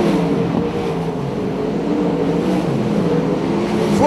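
Several sprint car engines roar together on the Archerfield Speedway dirt oval during an A-Main race, a steady dense drone that is loud but somewhat distant and swells as one car nears at the end.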